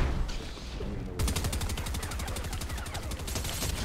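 Bursts of automatic gunfire from a video game rattle in rapid repeated shots, loud and continuous after a brief lull, with no one speaking over it.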